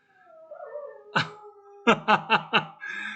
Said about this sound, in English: I think it's my guide dog that is sleeping.